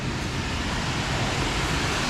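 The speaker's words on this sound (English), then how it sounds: "Oh, I hear it. I hear that water." Steady broadband rush of water pouring over a pond spillway outdoors, a continuous loud wash with no breaks and no voices.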